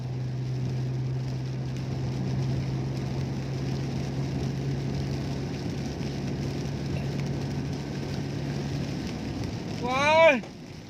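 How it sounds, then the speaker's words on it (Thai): Heavy rain pouring down during a downpour, a steady close hiss with a low hum running beneath it for most of the span, ending in a brief louder swell with a rising whine. "ฝนตกพี่น้อง"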